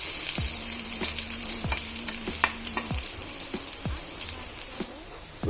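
Onions fry in coconut oil with a constant bright sizzle and crackle, punctuated by several sharp spoon or spatula knocks against the pan at irregular intervals, no talking.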